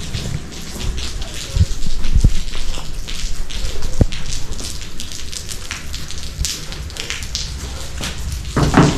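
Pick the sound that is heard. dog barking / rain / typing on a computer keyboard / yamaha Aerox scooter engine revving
rain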